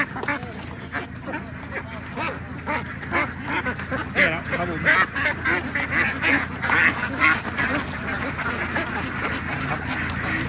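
Laying ducks being delivered in Sikhio, Nakhon Ratchasima quack repeatedly from inside a delivery box, a steady, busy chorus of close calls that grows livelier partway through, with someone talking over them.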